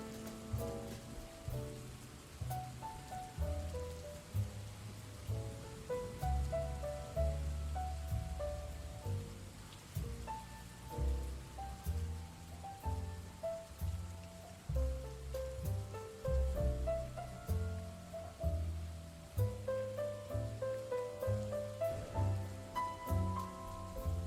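Gentle rain patters steadily under soft jazz music, with the rain forming a faint, even wash beneath the melody throughout.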